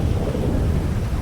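Thunderstorm in GTA V with the LSPDFR mod: a steady, loud low rumble of thunder and rain that fills the whole brief moment, with no voices.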